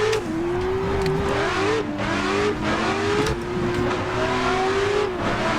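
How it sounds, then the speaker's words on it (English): A BMW E36 M3 drifting in the video game Klutch Kickers, its engine holding a loud, steady high rev with small pitch wobbles and tire noise throughout. "So listen to the difference when you drift the right way. Listen to how smooth it sounds."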